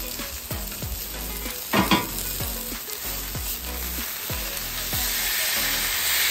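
Onions sear on a hot griddle for birria tacos, giving a steady close sizzle broken by regular scraping strokes of a spatula and one louder burst partway through; no talking.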